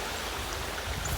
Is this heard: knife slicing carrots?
no